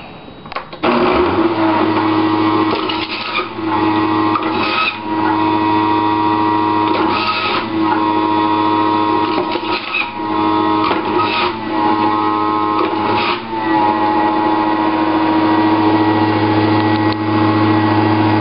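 An electric juicer whirring loudly as it processes carrots and apples, a steady motor hum broken by repeated bursts of grinding as pieces are pushed through.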